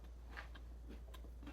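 Crunchy bites into a breaded, pan-fried brisket nugget, several faint crisp crackles and chewing crunches in quick succession over a low steady hum, close to the mouth.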